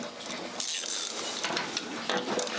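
A ratchet with a 14 mm socket turning a bolt during an engine swap, rapid clicking pawl sounds and metallic rattles over a steady workshop hum, close and continuous, with no voices.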